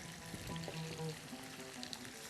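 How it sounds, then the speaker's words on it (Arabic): Onion and garlic fry in oil in a home kitchen, a faint, continuous sizzle heard close up, with a few scattered clinks in the pan and no voices. "هوني البصل قاعد يتقلى"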